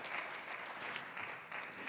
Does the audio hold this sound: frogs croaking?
no